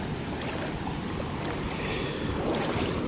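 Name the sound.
sea waves crashing near the island shore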